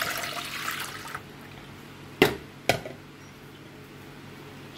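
Coconut milk for cornmeal pudding gurgles into a pot in a brief liquid splash at the start, followed by two sharp knocks like a can or spoon against the pot, close with no talk.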